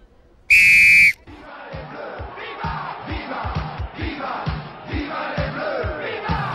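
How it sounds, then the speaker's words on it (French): Referee's sharp opening whistle at a North Africa versus South Africa football match, one loud blast of about half a second, followed by a roaring, rhythmically chanting stadium crowd. "On va envoyer le premier coup de sifflet de cette rencontre Afrique du Nord, Afrique du Sud."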